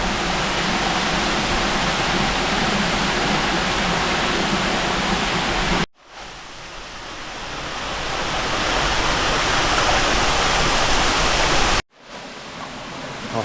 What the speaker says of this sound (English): And now here it is, I'm going to share the waterfall with you.